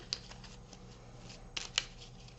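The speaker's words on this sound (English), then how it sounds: "let's start by mixing the cards" Playing cards being mixed by hand, a few quiet crisp riffles and flicks with soft rustling between them, close and faint with no talking.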